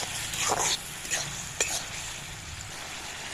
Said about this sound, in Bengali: এবার ঢাকনা খুলে নাড়াচাড়া করে দিই